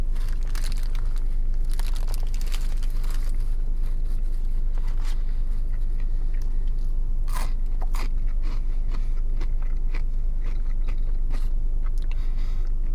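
Biting and chewing into a bacon, egg and cheese croissant sandwich from Burger King, with close crisp crunches and crinkly wrapper-like rustles repeating steadily throughout, no talk.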